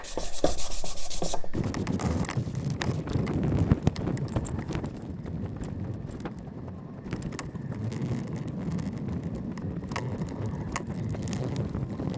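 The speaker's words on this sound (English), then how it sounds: "It's only necessary to give everything a very light sand before the 3rd coat." Someone lightly sands a painted pallet-wood spice rack by hand, making close, raspy rubbing strokes that repeat in an uneven rhythm, louder at first and then softer and steadier.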